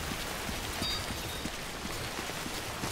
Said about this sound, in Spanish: Hay mucha lluvia